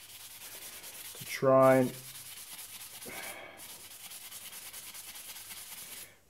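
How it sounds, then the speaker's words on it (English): Light hand sanding of the brake caliper pistons from a Honda CRM250 front caliper, a steady soft rasping scrape running throughout, with a short burst of speech early on. "I'm just really lightly sanding the surface of these pistons"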